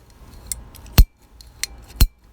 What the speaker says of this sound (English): it just slices right through the PVC pipe